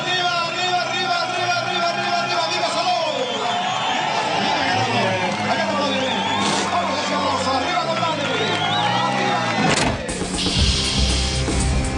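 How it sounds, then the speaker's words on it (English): A crowd cheers at the start ramp of Rally Catalunya 2008 as Dani Sordo's WRC rally car crosses, a steady roar of voices with engine revving beneath and a sharp burst near the end, under a commentator's talk. "it was Dani Sordo who got the biggest cheer as he crossed the start ramp."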